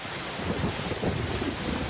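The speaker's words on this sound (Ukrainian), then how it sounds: "Так, весна приходить з дощами." Steady rain pouring down with a low, rolling rumble of thunder underneath, a dense and continuous storm sound effect with no voices.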